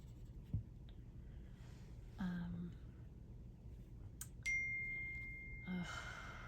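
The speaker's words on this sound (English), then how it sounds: "Every time I go to talk to you, my phone goes off" A phone notification goes off at a quiet moment, a bright sustained ding that rings on for about two seconds, set against faint background murmur and a few soft knocks.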